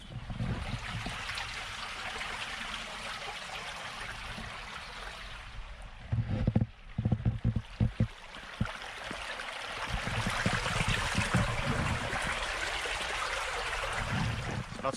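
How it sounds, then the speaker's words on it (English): A small stream flowing through a forest in Ireland toward the ocean, a steady close trickle and gurgle that briefly drops midway under a few rustling footsteps or handling knocks before the water noise swells again. "There's like a wee stream here that leads out into the ocean and stuff."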